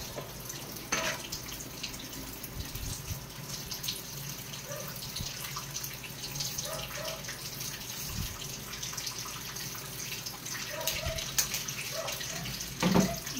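Tap water runs steadily into a pot for sinigang soup broth in a home kitchen. A few light splashes and clinks of cookware sit over the continuous stream.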